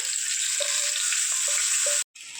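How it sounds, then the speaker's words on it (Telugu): Hot tempering poured over a Konaseema-style brinjal curd chutney sizzles and fries steadily, a close, loud hiss with a few small pops, cut off briefly near the end. "ఇవ్వండి తాలింపు అంతా పోసేసుకోవడమే"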